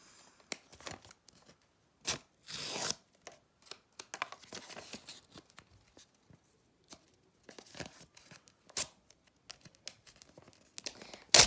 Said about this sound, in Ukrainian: Давайте розірвемо, але не сам сюрприз не порвати.